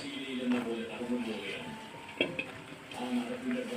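A spoon scrapes and stirs mushrooms through softened onions in a frying pan, soft clinks and scrapes over a low sizzle, with a voice talking in the background.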